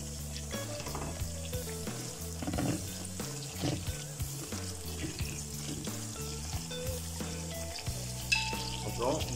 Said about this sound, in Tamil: இப்போ நம்ம அதில் கறி லீவ்ஸ் சேர்த்துக்கலாம்.